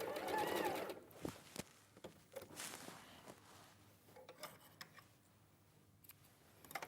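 A domestic sewing machine stitching close to the edge of fabric, heard as a brief burst of rapid mechanical whirring followed by scattered clicks and handling taps, fairly quiet and close.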